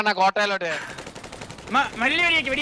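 A rapid burst of gunfire crackles close by, mixed with raised, shouting voices before and after the shots.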